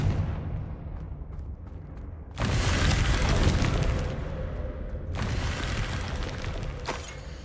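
Confringo blast spell going off in the Hogwarts Legacy video game: a sudden loud, broadband booming explosion that sustains for a couple of seconds, followed by a second rumbling burst and a brief sharp crack near the end.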